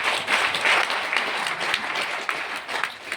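Loud applause from an audience at a youth gathering at a Delhi ISKCON temple, dense and continuous clapping that stays strong for the whole stretch with slight swells and dips.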